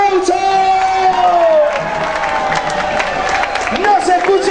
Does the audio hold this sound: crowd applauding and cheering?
yes